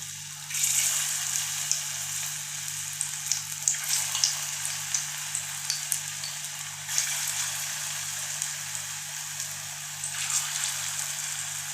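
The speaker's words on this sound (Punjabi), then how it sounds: "ਹੁਣ ਆਪਣਾ ਤੇਲ ਵੀ ਗਰਮ ਹੋ ਗਿਆ ਇਸ ਲਈ ਇਹਦੇ ਵਿੱਚ ਹੌਲੀ ਹੌਲੀ ਆਪਾਂ ਇਹਨਾਂ ਨੂੰ ਛੱਡ ਦਿਆਂਗੇ" Potato tikkis slipped into hot oil in a pan, giving a steady crackling sizzle with scattered pops and bursts that runs the whole time over a low electrical hum, with no talking.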